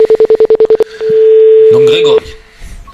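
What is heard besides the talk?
telephone ringing while calling a radio listener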